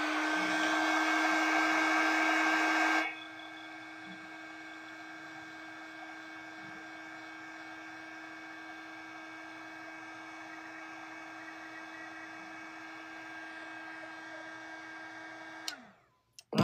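A hair dryer blowing on a watercolor painting of cherries, loud at first, then a steadier softer whine for about twelve seconds before it winds down and clicks off.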